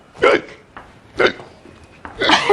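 Hiccups from a character in a Hindi TV comedy scene: three short, close vocal bursts about a second apart, with the last one stretching into a longer, breathier sound.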